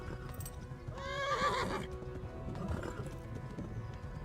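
A horse in the Kingdom Come: Deliverance video game gives a loud, rising whinny over a steady rumble of galloping hooves, with a fainter snort afterward and no talking.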